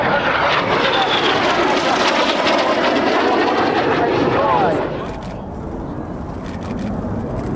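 Jet aircraft roar loudly overhead in a display at the RAF Cosford air show, then fade into a lingering distant rumble. A commentator talks over the passing engines.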